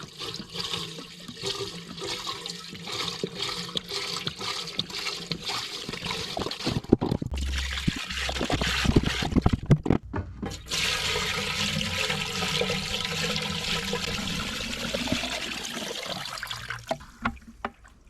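Coolant poured into an old 1945 Caterpillar D7 bulldozer, starting as a light trickle and swelling into a gurgling, sloshing flow that runs steadily before tapering off, alone without speech.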